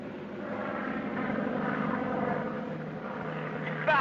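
An airplane engine in flight gives a low, continuous droning hum inside the cabin, swelling slightly in the middle, with faint voices barely present beneath it.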